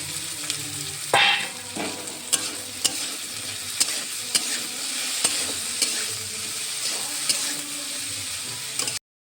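Cauliflower pieces for a singara filling fry in a pan, a bright continuous sizzle broken by several sharp scrapes and taps of a spatula stirring, with no talk.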